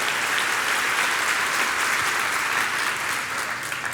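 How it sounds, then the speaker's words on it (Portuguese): Dense, steady applause from a church congregation, a continuous wash of many hands clapping at even loudness throughout. "pode dar uma salva de palmas"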